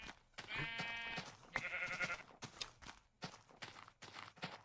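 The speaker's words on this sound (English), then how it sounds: "There's sheep over there." Sheep bleat in the Minecraft video game, two drawn-out bleats in the first half, followed by a run of soft, regular footstep taps.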